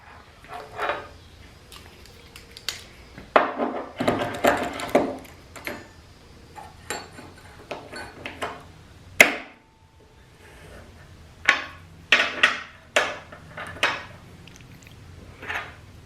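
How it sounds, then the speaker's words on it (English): Several sharp metallic taps and knocks as a center punch is hammered into metal, in irregular bursts, some close and loud, separated by short quiet gaps. "So after hitting with the center punch,"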